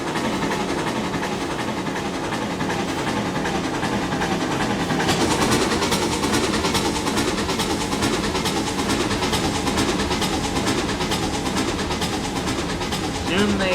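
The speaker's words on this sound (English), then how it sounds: "As the two steam locomotives climbed a hill, they were very strong engines" Two steam locomotives climb a hill in Trainz Railroad Simulator 2019, built as experimental 4-6-2 Pacifics, in a blizzard: a steady, dense engine roar and chuffing that thickens midway, with a voice talking over it.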